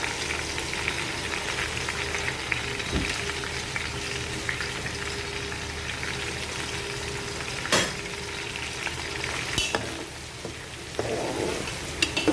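A Nigerian chicken stew base fries in a pot with a continuous loud sizzle, broken by a few sharp stirring knocks against the pot.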